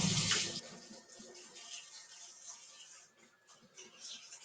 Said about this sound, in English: First of all, it's important that we, especially in today's day and age, wash our hands.